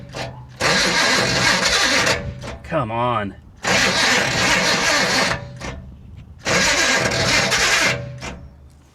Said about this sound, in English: I think it's the starter hanging up.